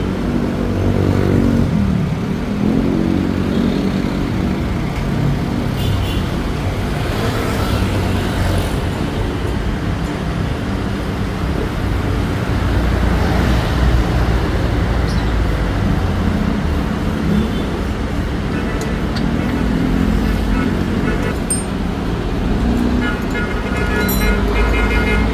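Diesel engine of a concrete cutter running steadily in a repair shop, a loud continuous rumble with some clatter and background noise throughout, no voices.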